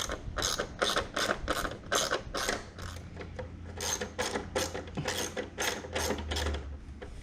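Rapid ratcheting clicks in quick repeated bursts as a ratchet loosens 10 mm bolts on the engine cover of a 2019 Mustang GT, close and steady with no talk.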